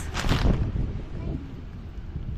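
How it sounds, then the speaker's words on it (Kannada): Strong wind buffets the microphone outdoors in a continuous low, rumbling roar, heaviest in the first half-second and then easing into a steady blustery wash. "ಗಾಳಿ ಐತಲ್ಲ ಈಗ, ಗಾಳಿ ಬರತೈತಿ ಫುಲ್"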